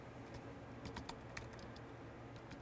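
Keystrokes on a computer keyboard as a network command is typed, a brisk irregular run of close, light clicks over a steady low background hum.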